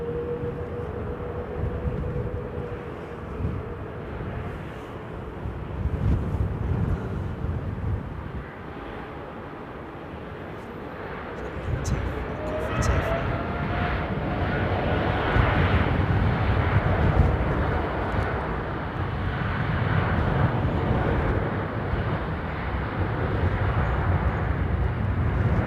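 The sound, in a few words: heavy airliner on the runway at London Heathrow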